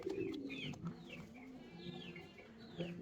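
Fancy Mundian pigeons cooing in repeated soft rolling calls, fairly close and quiet, with a few faint clucking sounds and low background noise.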